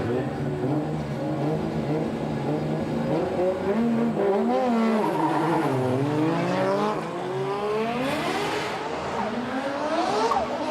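Drift race cars competing in a Formula Drift Japan round at Sportsland Sugo, Miyagi, loud engines revving and wailing with constantly rising and falling pitch as they slide through the course, continuous and close.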